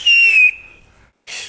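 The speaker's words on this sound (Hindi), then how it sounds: "एक सीटी बजा" A sharp, high whistle blast lasting about half a second, followed by a fading tail and a short burst of hiss.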